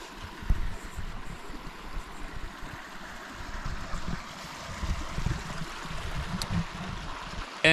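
Steady broadband rushing of a river flowing past old steel cabling along a mining trail, continuous and fairly close, with no talk over it.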